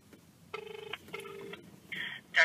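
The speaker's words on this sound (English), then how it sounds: "let's make the phone call" Telephone ringback tones on a call to a hospital endoscopy department, two long buzzing rings, each made of rapid pulses, heard alone over a faint line hiss, followed by brief higher electronic beeps.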